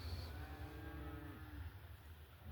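Large herd of around 500 cattle on a cattle drive through a small Southern Alberta town, lowing steadily in overlapping moos over a low rumble of outdoor background noise, with no talking.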